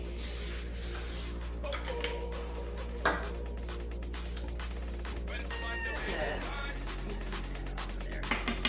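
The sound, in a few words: spraying a pan with cooking spray to grease it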